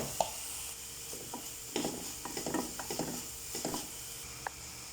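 Onion, ginger and garlic frying and being stirred in a pot for chicken kurma, scattered spoon scrapes and knocks over a quiet, steady sizzle, close up with no talking.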